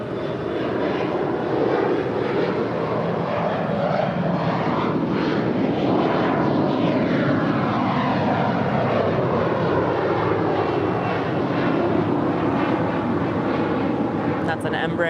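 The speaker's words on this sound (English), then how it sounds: "That's an Embraer 175LR to Portland, delivered in December 2021." An Embraer 175LR jet at Los Angeles International Airport, a loud, steady broadband engine roar that holds for the whole stretch without a break.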